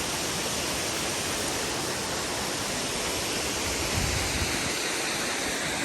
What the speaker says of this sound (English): Laurel Falls, everybody. Isn't this beautiful?